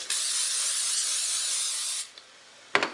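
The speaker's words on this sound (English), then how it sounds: "And we're going to spray the pan." Pam cooking spray misted onto a pan: one close, continuous hiss lasting about two seconds, then a couple of short clicks and a clatter.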